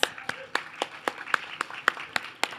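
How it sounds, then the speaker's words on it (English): Scattered audience hand claps at a poetry event in a theatre, a handful of distinct claps spaced through the moment rather than a full ovation, moderately loud and close. "one more hand for David Perez."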